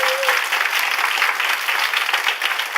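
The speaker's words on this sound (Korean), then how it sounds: "한 번 더 박수를 주시고." A church congregation applauds in a steady, dense wash of clapping filling the room for a few seconds.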